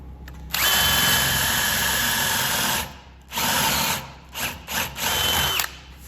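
A power drill bores a hole in wood while a rustic king bed is built, the motor whining loud and steady for a couple of seconds, pausing, then running again in shorter bursts before a final sustained stretch.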